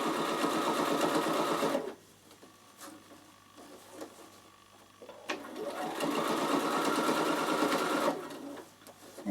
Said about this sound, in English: now you just roll it over and top stitch it